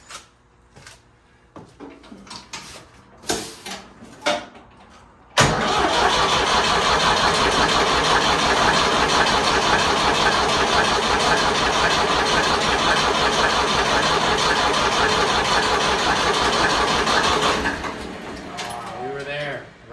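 A Ford 3000 tractor's diesel engine, just repaired on its manifold and fuel return, cranks and catches abruptly, then runs loud and steady at close range before dropping back, with talk beforehand.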